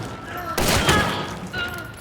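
Bornheim pistol shots ring out in a video game, a quick burst of sharp close reports with some game sound effects around them.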